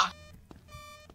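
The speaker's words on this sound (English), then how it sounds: "It's the thing it only beeps when the ghost is close by" Electronic beeping from a ghost-detector device in a ghost-hunting video game: a bright, steady tonal beep at the start, then a second sustained beeping tone later, over a quiet, low background.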